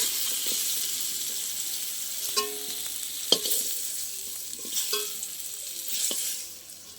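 Potato pieces frying in oil make a continuous soft sizzle with occasional sharp clinks and scrapes of a utensil against the pan, tapering off toward the end.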